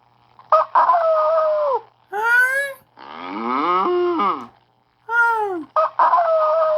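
In a children's animal-sounds game, a rooster's crows alternate with several long cow moos, each call loud, close and separated by brief silences.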